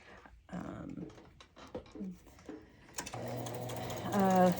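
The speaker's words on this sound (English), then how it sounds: "So I'm going to sew around this." A sewing machine stitches around an art journal page, its motor whirring loudly near the end after a few seconds of a voice talking and some light handling clicks.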